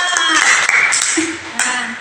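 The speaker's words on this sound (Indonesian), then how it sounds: "Oke, tepuk tangan semua." Pupils in a primary school classroom clap their hands together, a brisk, fairly loud burst of mixed claps with faint voices underneath, lasting about two seconds.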